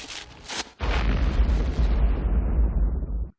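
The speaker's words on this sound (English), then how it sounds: "as soon as he pops it open, you just hear the explosion" A package bomb goes off in a 1996 Christmas comedy movie scene: a short pop, then a loud, deep, sustained boom rumbling for about three seconds before cutting off, with no talking.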